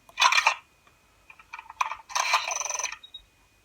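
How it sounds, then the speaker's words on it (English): Several short, buzzy electronic bursts from a 3D-printed Star Wars E-11 toy blaster's empty-weapon effect, separated by brief pauses, with a faint high beep at the end. "Once you're empty, you get the empty weapon sound."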